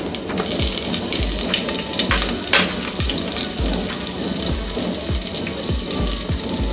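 Sliced green chilies and asafoetida sizzle in hot oil in a pan, a steady hissing fry with irregular low thumps of stirring, close and fairly loud with no talk over it.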